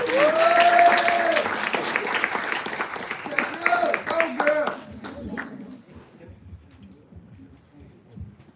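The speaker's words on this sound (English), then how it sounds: "So I want everyone to give a round of applause to Stephen Raga." An audience at a Women's Day community event claps in a warm burst of applause that swells, then tapers off over several seconds, with a voice speaking over the clapping and cheering early on.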